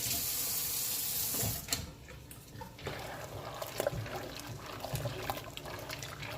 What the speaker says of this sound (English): I'm gonna get a spoon, rinse my spoon off.